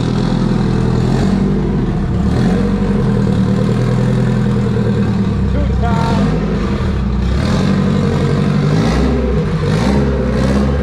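Third-gen car with an eBay GT35 turbo pulling away for street tuning, engine loud and close, idling then revving in repeated surges with a steady low rumble.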